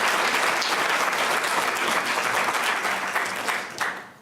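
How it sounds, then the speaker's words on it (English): An audience at a public diabetes forum claps loudly and continuously, a dense wash of applause that tapers off near the end. "I just wanted to give them a big round of applause."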